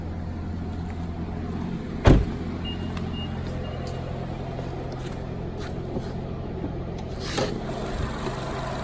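Steady idle drone of a 2017 Nissan Altima engine under an open hood, a constant low hum with a sharp knock near the start and faint passing noises from farther off.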